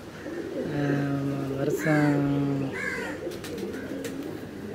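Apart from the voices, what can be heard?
racing pigeon cooing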